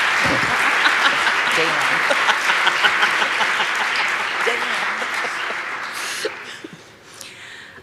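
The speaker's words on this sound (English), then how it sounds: "Can we do another round of applause for our award winners?" Sustained applause from a large convention audience honoring award winners, loud and dense for several seconds before tapering off, with a voice speaking briefly near the end.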